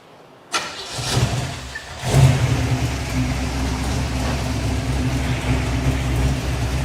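A car on a chassis dyno fires up with a sharp start and then settles into a loud, steady engine drone that holds without letup.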